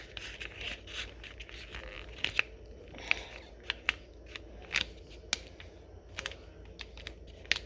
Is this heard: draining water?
no